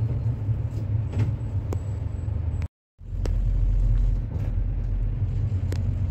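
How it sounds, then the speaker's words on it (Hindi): Night street traffic in Dubai rumbles steadily with passing cars and heavier vehicles, loud and close, broken by a brief dropout and then resuming. "ये देखिए दुबई का जो ट्रैफिक है कुछ इस प्रकार से है"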